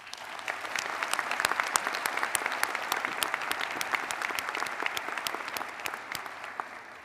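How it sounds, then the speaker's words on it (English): A large audience at a spring nursing college commencement ceremony bursts into sustained, even applause, with many hands clapping densely from start to finish. "Please join me in congratulating them with a round of applause."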